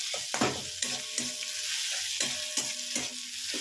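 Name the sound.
onions being stirred and fried in a pan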